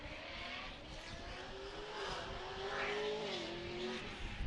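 An LS-powered Nissan S13 drift car at Formula D Texas goes back on the throttle, its V8 droning and rising in pitch as it revs, heard at a distance with a broad wash of crowd and track noise.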